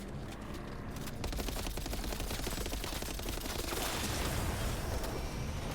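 Suppressed weapon fire in the video game Death Stranding 2, a dense, continuous barrage of muffled shots and impacts layered over a loud game soundscape throughout.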